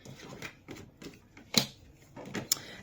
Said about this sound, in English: I'm just going to get these cards out